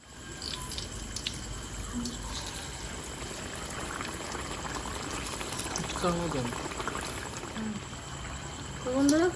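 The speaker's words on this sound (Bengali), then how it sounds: "বাকিগুলো এইভাবেই ভেজে নেবো" Dahi vada lentil fritters deep frying in hot oil, a steady dense sizzle and bubbling crackle throughout, close and continuous, with a voice talking faintly at moments.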